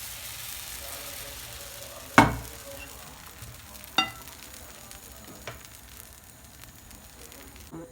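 A baghrir semolina crepe cooking quietly in a pan, a soft steady sizzle broken by a couple of sharp knocks and a fainter tap.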